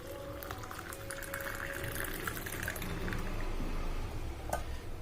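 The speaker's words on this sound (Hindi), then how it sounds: "अब गर्म होने के बाद दूध को इस गिलास में" Warm milk is tipped from a pan into a glass, making a steady liquid pour with soft splashing that runs continuously at moderate loudness for several seconds, with no talking over it.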